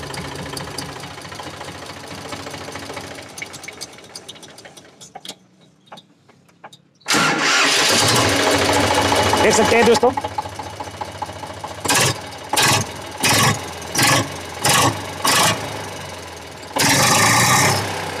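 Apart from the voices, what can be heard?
Eicher 485 tractor diesel engine starting and running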